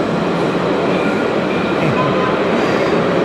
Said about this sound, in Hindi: पीछे जो है वो ट्रेन आ गई है